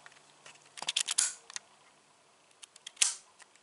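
A single-lens reflex camera fires its shutter in quick mechanical clicks, a dense burst of sharp snaps followed after a pause by one louder click and a few lighter taps, close and alone.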